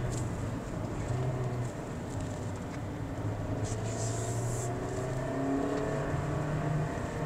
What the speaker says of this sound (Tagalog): Ganda rin ang tunog ng makina mga buddy kung naririnig nyo.